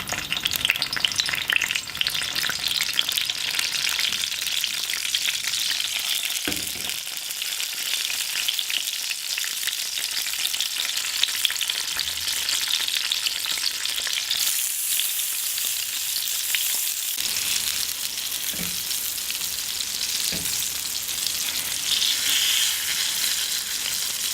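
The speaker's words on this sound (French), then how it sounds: "Dans une autre poêle, je vais faire frire les aubergines." Eggplants frying in a pan give a loud, steady, dense sizzle that runs the whole time, broken by a few brief clacks from a utensil, with no talking.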